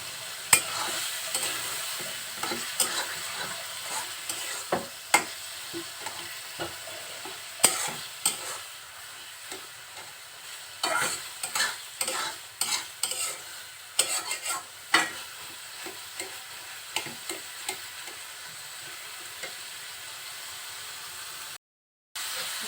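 Fish roe bhaji being stirred in a frying pan, with a steady hiss and sizzle under repeated scraping, clacking strokes of a spatula that come in irregular bursts across the whole stretch and stay close and fairly loud, with no one talking.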